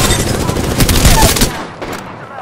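Loud rapid gunfire in the video game Apex Legends, dense bursts close up for about a second and a half, then cutting off to quieter game sounds.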